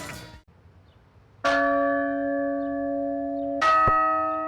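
A church-style bell strikes three times at uneven intervals, each toll loud, close and ringing out with a long sustained hum.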